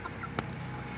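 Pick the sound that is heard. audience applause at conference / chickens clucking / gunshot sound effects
chickens clucking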